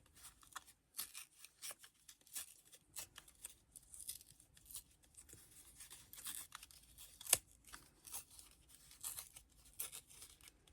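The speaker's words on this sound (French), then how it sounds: "Pour pouvoir déchirer notre petite carte" Faint, close paper-tearing and crinkling: a small scrapbooking card ripped in short scratchy bursts, separated by brief quiet gaps, in a quiet room.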